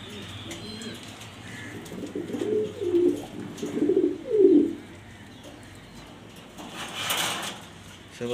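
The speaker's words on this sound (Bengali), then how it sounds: "এটা নর কবুতর।" A male pigeon coos in a loft, several soft low rolling calls in the middle with faint background noise and a brief rattle near the end.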